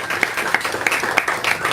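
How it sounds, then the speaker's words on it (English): A crowd at a live poetry slam claps briefly, the hand claps fairly close with a few sharper accents standing out over a steady patter. "Clap it up for him."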